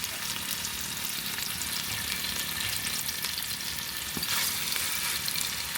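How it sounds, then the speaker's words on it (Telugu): Onions and slit green chilies fry in a pan for a mutton biryani, giving a steady, close, continuous sizzle with faint stirring scrapes and no talk. "ఎర్రగడ్డలు వేసేద్దాము, ఆనియన్స్, 2 పచ్చిమిర్చి చీలికలు."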